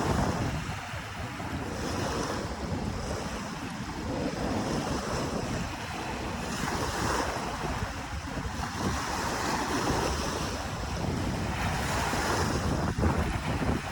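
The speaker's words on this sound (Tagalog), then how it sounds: "At maalon pa din." Rough waves churn and break along Manila Bay in bad weather while strong wind buffets the microphone, making a continuous loud roar of surf and gusts with no pauses.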